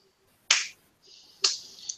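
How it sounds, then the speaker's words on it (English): Two slow, deliberate claps from Orsini, a video game character, crack out sharply and close by, each trailing a brief ringing tail. "Orsini is giving you a slow clap."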